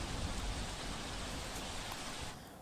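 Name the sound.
rain falling in Surat city streets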